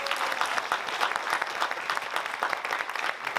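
An audience at a French film screening event breaks into lively applause, a dense, uneven patter of many hands clapping close by, sustained for a few seconds without speech.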